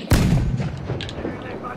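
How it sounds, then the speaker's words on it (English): A cannon fires once in Battlefield 4, a sharp loud boom at the start that rolls off into a low rumble, with quieter game noise and faint chatter following. "Fire the cannon!"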